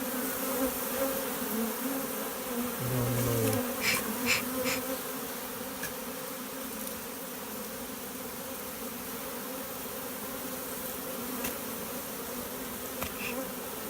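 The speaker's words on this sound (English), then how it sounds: "I was hoping that I got a bee swarm on the weekend." A honey bee swarm outdoors, producing a dense, continuous buzzing drone from many bees, loud and steady throughout with occasional louder passes of individual bees close by.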